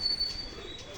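Soft, low pigeon cooing, faint and brief, over a quiet background with a thin high-pitched tone.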